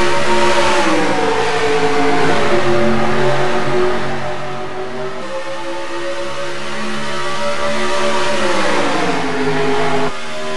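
Race truck engines roar together at a green-flag start in the NASCAR Racing 2003 video game, a loud, close pack revving and accelerating, pitch climbing and shifting as the field pulls away, with no voices.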